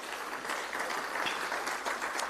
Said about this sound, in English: I would like us to give them a round of applause.